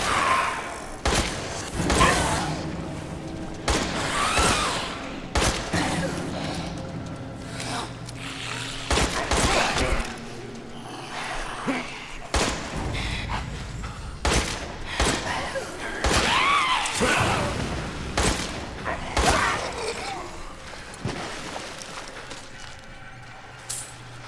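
Repeated gunfire and heavy thuds fill a tense fight in the video game Resident Evil 8 Village, with loud, dense shots and impacts recurring throughout while someone talks over the action.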